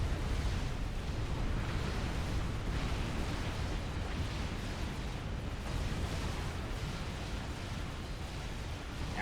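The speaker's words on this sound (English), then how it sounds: "Waiting for this power generator to go down. It'll do a lot of damage to the other buildings around it." A power generator exploding in the Supreme Commander real-time strategy game, a continuous rumbling wash of blasts and booms with several soft bursts, moderately quiet throughout.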